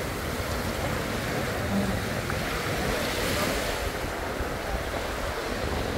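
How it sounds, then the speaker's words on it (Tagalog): Strong ocean waves churn in a constant, fairly faint wash of surf and wind, with no distinct breaks, heard alone. "Malakas ang alon."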